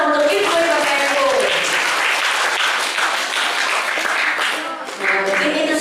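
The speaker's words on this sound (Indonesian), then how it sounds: "Tepuk tangan dong untuk PPNU." An audience at a student literacy seminar applauds, with dense, sustained clapping filling the room for several seconds, briefly dipping near the end before picking up again.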